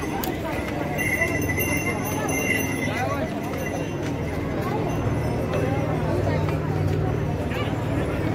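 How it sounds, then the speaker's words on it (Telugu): Horses gathered at the boarding point of the Kedarnath trek, hooves clip-clopping steadily amid a dense background of crowd chatter and babble throughout. "గుర్రాలు మొత్తం ఇక్కడ ఉంటాయి. ఇక్కడ నుంచి ఎక్కేసిపోవాలి."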